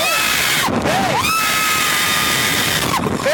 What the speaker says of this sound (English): Just crying and screaming.